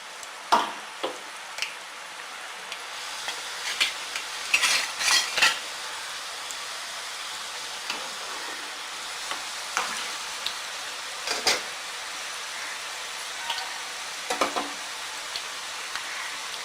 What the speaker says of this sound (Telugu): అలా వేస్తే చక్కగా వేగుతాయి